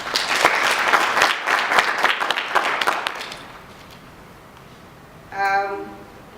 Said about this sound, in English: I think all these good people deserve a round of applause.